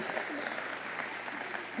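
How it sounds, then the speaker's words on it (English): A dense, even wash of audience applause for a student speaker at Reno's State of the City event, faint and distant-sounding, sustained without pause through the short stretch. "Again, give him a huge round of applause for this future mayor, future president."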